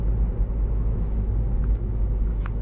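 Ford EcoSport cruising in fifth gear, its engine a low steady rumble heard from inside the cabin, with faint road noise throughout and no talking.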